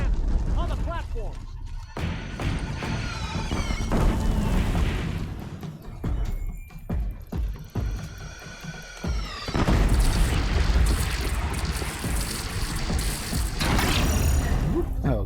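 Cannons fire during a battle in the video game Horizon Zero Dawn, with deep booms and blasts in a dense, loud mix of combat noise, shouting voices and music throughout.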